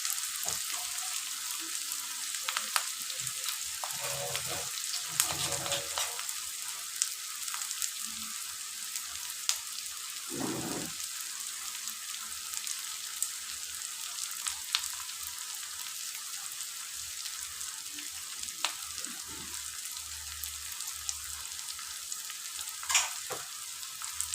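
Onions sliced for birista fry in a pan for a chicken dish, giving a soft, steady sizzle throughout with occasional louder stirring scrapes and bubbling bursts.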